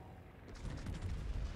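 Naval gun salvo from the battleship Bourgogne in World of Warships: a single heavy boom lands about a third of the way in, then a dense, rolling low rumble carries on to the end.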